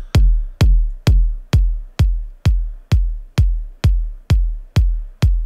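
A kick drum run through Neutron exciter tape saturation, eleven evenly spaced punchy thumps with a bright click on top and a booming low tail, played alone and loud.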